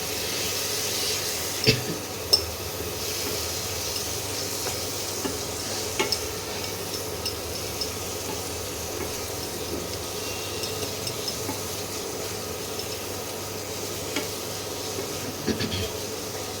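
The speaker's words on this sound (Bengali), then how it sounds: "আবার একটু জল দিলাম কেন মশলাটা কষাতে হবে" Spice masala for a prawn curry is stirred and fried with a splash of water in a pan, a continuous close sizzle and hiss with a few sharp scrapes of the spoon.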